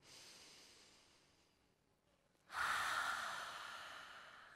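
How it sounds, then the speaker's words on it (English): A big, loud open-mouth exhale during yoga breathing practice: a soft breath first, then a strong, close, airy whoosh that slowly fades. "Big, loud, open mouth exhale."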